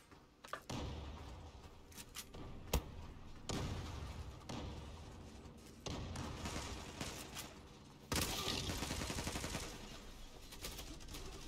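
Gunshots in the online shooter Zula, a mix of single cracks and automatic bursts, one sharp shot near three seconds and a louder burst toward the end, quiet overall with game ambience between.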